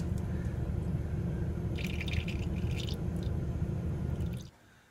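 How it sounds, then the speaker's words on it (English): Condensate drain water from a newly installed Trane / American Standard 7.5-ton heat pump air handler in a mechanical room, a steady close wet trickle over a loud constant low hum, with brief splashy bursts midway before the flow cuts off near the end. "Yep, definitely getting some drain water out."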